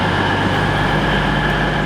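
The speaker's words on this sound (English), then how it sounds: "Here's our train." A train pulls into a station platform on a line out of St Pancras toward Skegness, heard as a loud, steady rumble with a sustained tonal whine and no talking.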